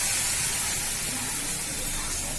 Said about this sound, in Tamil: இப்போ நம்ம அரைச்ச விழுதை ஆட் பண்ணிடலாம்.